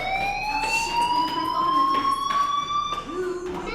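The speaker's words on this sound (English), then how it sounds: "Hey, do you hear that fire alarm?" Fire alarm in the video game Life Is Strange, a continuous electronic siren tone that slowly rises in pitch, loud and unbroken, with muffled voices and footsteps underneath.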